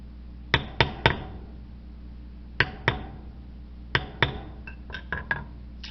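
A mallet strikes a leather background stamping tool on a leather coaster. The sharp, close taps come in quick bursts of two or three, separated by short pauses, in a quiet room.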